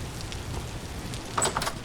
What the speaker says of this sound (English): Do they know to head for cover when it's raining?